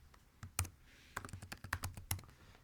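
Keystrokes tap on a computer keyboard in an irregular run of soft clicks, close but faint, with short pauses between bursts.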